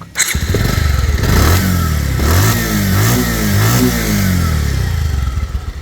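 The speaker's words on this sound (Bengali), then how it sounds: "বাইকটা স্টার্ট করে সাউন্ড কন্ডিশন দেখাবো" A second-hand Bajaj Pulsar 150cc single-disc motorcycle starts up near the microphone. It revs loudly several times in rising and falling surges, then settles back to a throaty idle.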